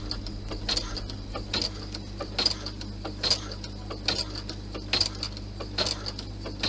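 A sewing machine stitches slowly over the seam of a Santa bag, each needle stroke a distinct mechanical tick in an even rhythm of roughly one per second over a low motor hum, close and clear with no voices.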